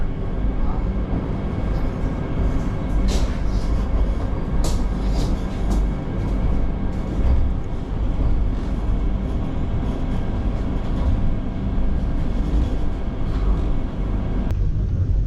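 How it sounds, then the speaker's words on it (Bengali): A Vande Bharat Express train pulls out of Howrah station, a steady low rumble and rolling rail noise heard from inside the carriage, with occasional clicks and knocks over the track and a brief louder clatter near the end. "ঠিক 6:01 আমাদের ট্রেন কিন্তু ট্রেনের দরজা বন্ধ হয়ে গেল এবং যথারীতি ছেড়েও দিল আমাদের হাওড়া স্টেশন থেকে।"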